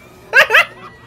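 Two quick, sharp barks sound close by in a room during a gaming session, followed by a faint trailing sound.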